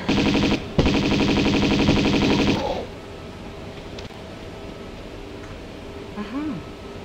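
Rapid Uzi fire in Tomb Raider 2 on an offshore rig, a loud dense burst of automatic shots lasting a couple of seconds, then quieter game ambience with talk afterward.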